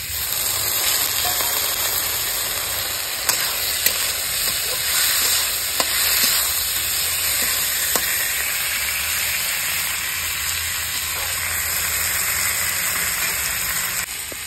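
Tomatoes frying in a pan of hot mustard oil with nigella seeds, dried red chillies, whole cumin and already-fried onions. They give a steady, close, loud sizzle with faint crackles throughout and no talking.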